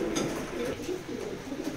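Racing pigeons coo in a low, throaty rhythm, several soft rolling calls close by over a steady background hiss.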